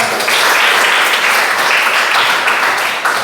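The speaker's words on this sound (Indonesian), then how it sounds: "Tepuk tangan untuk kita semua." Schoolchildren clapping together in a classroom, a dense, steady burst of small-handed applause lasting a few seconds at close range.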